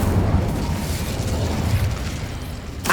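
A roaring burst of fire from the Incendio spell in Hogwarts Legacy, a loud, dense whoosh that holds steady for about three seconds before a sharp crackle at the end.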